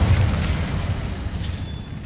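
An Incendio fire spell bursting in Hogwarts Legacy, a loud, deep booming whoosh that starts strongly and rumbles on for about two seconds, no voices.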